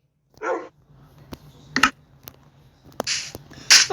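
Within a video game, a dog gives several short, sharp barks and yips in separate bursts, close and fairly loud, with quiet gaps between them and no talk.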